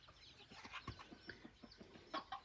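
A fighting rooster clucks in short, faint, uneven bursts, with a few sharper calls near the end and no talking.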